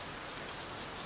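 Steady rain patters on a greenhouse roof of wet glass panes, an even, dense hiss of drops that stays quiet and unbroken throughout.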